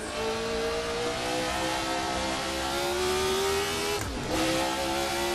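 A Formula RSS 1970 V8 race car in Assetto Corsa screams along at high revs. The engine tone rises steadily, dips sharply for a quick gear change near the end, then climbs again, loud and continuous.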